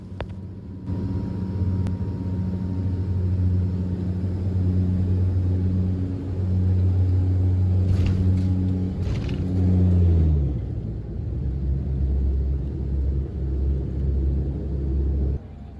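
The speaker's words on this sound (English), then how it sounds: "I believe that's the reverse thrust going into gear" A Loganair Saab 340 turboprop just after landing at Glasgow Airport, its loud droning propeller hum swelling as reverse thrust engages, then dropping abruptly into a lower rumble as the aircraft slows, heard from inside the cabin.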